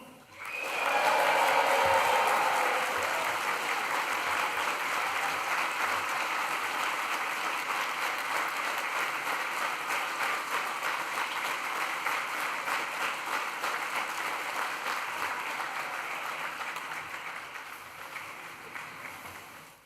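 Graduation ceremony crowd filling the hall with a loud, sustained burst of cheering and applause that swells at once and holds steady to the end, dense and continuous with no voices standing out.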